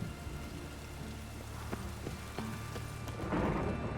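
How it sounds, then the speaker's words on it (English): Rain pours steadily during a thunderstorm in the Witcher 3 video game, a dense hiss with scattered drop hits and a low rumble, swelling louder toward the end. "A storm, damn it."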